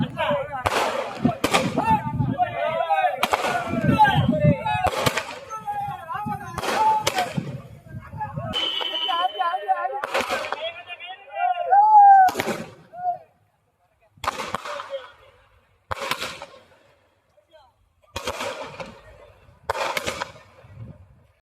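Firecrackers burst in loud, sharp cracks, fired by film fans celebrating outdoors, some in rapid clusters and others as single spaced pops, with voices and crowd noise between them.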